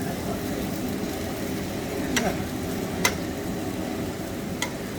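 Liver stirred in a hot pot crackles with a steady low sizzle, broken by a few sharp clicks of the utensil against the metal, fairly faint and close.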